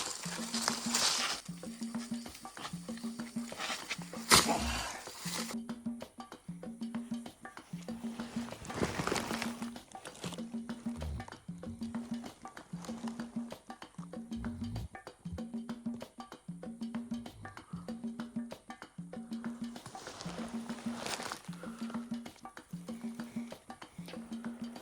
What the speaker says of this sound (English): He's snoring. This is the first time I am seeing a dog snore.